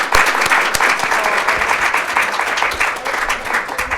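An audience at a dementia care centre's fall showcase applauds its panelists, with loud, dense clapping that runs continuously from start to finish.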